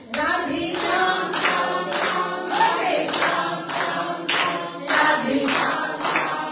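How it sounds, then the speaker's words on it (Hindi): A devotional audience claps in steady unison along with a Radhe Shyam and Sitaram chant at a spiritual discourse, about eight loud, even claps ringing out over a sustained sung chant. "अब दोनों का बैलेंस, ताली भी बजाना है और साथ में बोला राधे श्याम"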